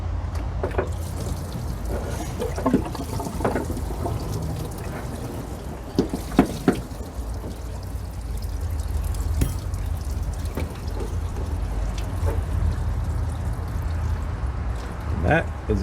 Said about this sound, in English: make sure that you have a pan down below to catch the antifreeze that's going to drop out of here